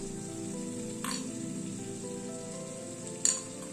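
Paneer added to a frying pan of cauliflower and potato, giving a steady soft sizzle with a couple of brief sharp clinks from stirring, no voices.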